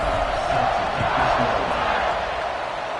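A stadium crowd in an NCAA college football video game roars steadily at kickoff, a broad continuous wash of cheering noise.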